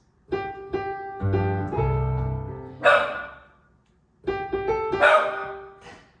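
A dog barks repeatedly in a room, near and fairly loud, in two bursts of sharp yips and barks separated by a pause, beside a piano.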